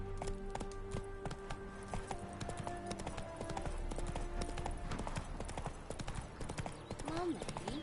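Roach the horse in The Witcher, hooves clip-clopping in a steady close walking rhythm, faint and mixed with voices talking.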